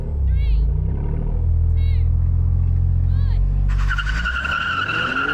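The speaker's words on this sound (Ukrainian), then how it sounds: "А ось і пробуксовка." An Alfa Romeo Giulia performance sedan spins its wheels at launch: a loud, steady engine drone builds into a rising tire squeal near the end, with a few brief chirps over the rumble.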